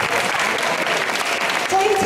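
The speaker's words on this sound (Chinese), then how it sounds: "我们给吴老师掌声鼓励" An audience at a school life-education lecture claps loudly for teacher Wu, a close, continuous burst of applause with voices mixed in toward the end.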